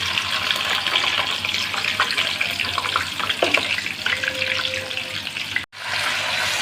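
Chicken pieces frying in about half a cup of oil with garlic and garam masala, a steady close hiss and crackle of sizzling that runs throughout with no talk, briefly cutting out near the end.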